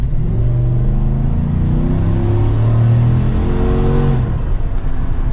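A Procharged 2024 Chevrolet Silverado 1500 ZR2 accelerates mildly, its supercharged engine droning steadily with rising tone for about four seconds, heard loud from inside the cab, then easing off.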